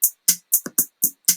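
Drum machine running pattern B, a quick sequence of crisp, bright hi-hat-like hits mixed with punchier thuds, about seven tight strikes in under a second and a half, dry and up front.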